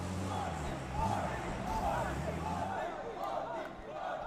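An esports arena crowd at a mobile game world championship group stage cheers and roars as a broad, steady wall of noise, with commentary voices running over it.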